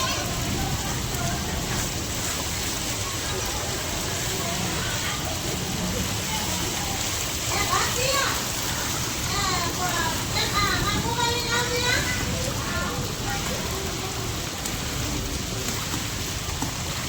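Rain falls steadily with a constant hiss of drops hitting surfaces at home, while children's voices and playful chatter rise and fall over the downpour.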